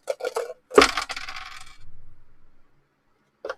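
A 12-sided die and two other dice are tossed onto a hard surface, giving a few quick clicks, then a sharp clatter with rattling and rolling that fades out. One last small tap follows.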